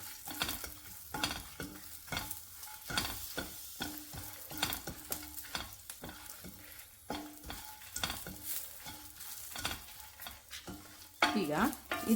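Curry leaves and garlic frying in a pan for a fenugreek-leaf chutney, with a steady close sizzle broken by frequent scraping stirs of a spoon and a brief louder crackle near the end.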